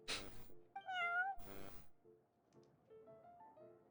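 A cat in the video game Genshin Impact gives a couple of clear, close meows, a short rising call followed by softer, fainter mewing sounds with brief pauses.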